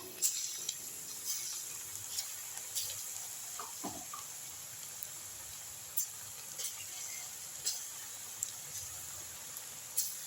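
Soaked white chickpeas frying in hot oil in a kadai for masala vadai or vada curry, a soft steady sizzle with faint light crackles and occasional stirring clinks, fairly quiet and close, no talking.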